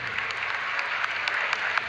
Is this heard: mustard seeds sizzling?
no